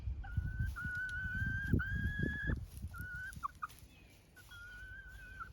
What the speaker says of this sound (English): That's the speckled Sussex.